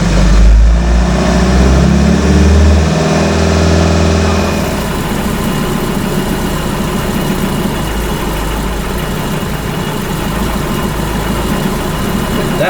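An AC Cobra replica (Pilgrim Sumo) runs while its fuel mixture is adjusted. It is loud and close, with a few throttle blips that rise and fall before it settles into a steady, slightly uneven idle.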